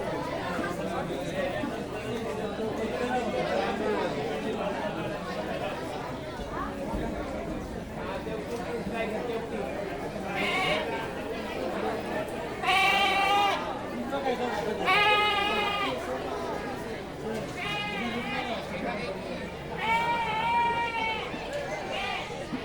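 Kenguri sheep, a South Indian breed, bleat several times in a row while a group of people chatter around them during a farm visit.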